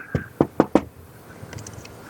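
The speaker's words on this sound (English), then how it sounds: "I'm going to knock again." Four firm knocks on a residential front door, spaced unevenly and close by, followed by quiet rustling and faint background sounds.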